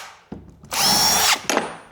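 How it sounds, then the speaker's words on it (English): A power drill whirs in a short steady burst, close and loud, driving a screw into wood while a chicken coop is built, with a brief start before it and a quick second spin after. "Now you can pre-drill the rest of the holes."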